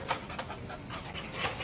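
A dog panting close by, quick rhythmic breathy huffs repeating steadily throughout, heard on its own in an outdoor setting.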